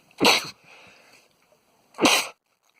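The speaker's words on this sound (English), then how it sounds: "My turn to sneeze." Two sharp, loud sneezes about two seconds apart, close to the microphone, with quiet breathing between them.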